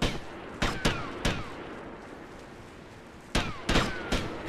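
Gunfire in the video game GTA Vice City: sharp, loud shots come in two bursts of three, each crack trailing a short ringing tail over a steady low background hum.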